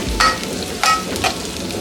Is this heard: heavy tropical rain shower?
no